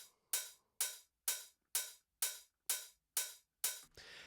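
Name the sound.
layered open and closed hi-hat samples together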